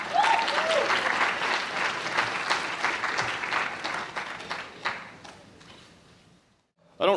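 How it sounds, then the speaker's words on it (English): Sustained applause for graduates at the 2018 Texas MS programs commencement ceremony, a large crowd clapping loudly and steadily, then fading away toward the end before a brief burst returns. "I don't really think it's possible to have too many rounds of applause on graduation day"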